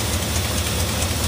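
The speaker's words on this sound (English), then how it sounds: "There's a tiny little exhaust leak I can hear down here that we're going to attend to." A Dodge Charger just brought out of storage idles steadily at close range, a low, even engine rumble with a slight exhaust leak, and no voices.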